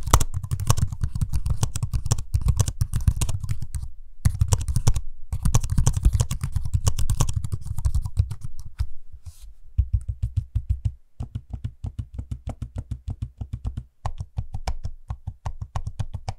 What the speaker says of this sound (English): you can hear what the trackpad and the keyboard sound like for yourself